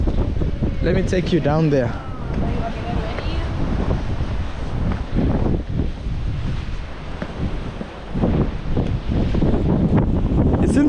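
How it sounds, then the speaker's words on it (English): Strong gusts buffet the microphone outdoors, a loud rumbling roar that surges and dips, with someone talking briefly near the start. "I said there's crazy wind, it kind of pushes you"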